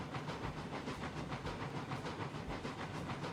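Heavy steam locomotive hauling a long, weighty train in the railroad game Railroads Online, a steady rhythmic chuffing with hissing steam and rolling rail noise, constant and fairly loud with no talk.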